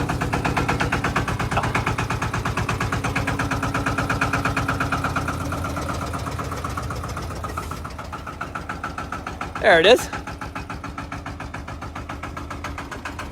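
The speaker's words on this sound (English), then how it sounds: "I think the engine turns like 1600 RPM." A Lanz D1266 tractor's single-cylinder diesel idles nearby with a steady, rapid thumping beat. Near the end a brief higher-pitched squeal or whistle rises and falls, and someone speaks briefly.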